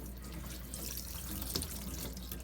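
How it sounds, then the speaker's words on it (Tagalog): Potatoes rinsed under a running kitchen tap before being cut into french fries; a steady, close rush of water pours without pause, with no talking. "hugasan ulit natin kasi may mga natira-tira ko dyan na germs"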